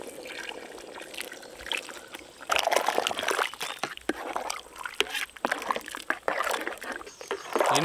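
Masala water is poured into goat tripe gravy in a pot, a soft trickle that swells into louder sloshing and splashing pours in uneven bursts, close by with no talking.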